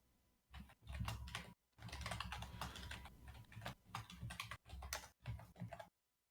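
Fast, hard keystrokes rattle on a computer keyboard during an online tabletop role-playing session, coming in quick bursts with brief pauses, fairly close and with no speech over them.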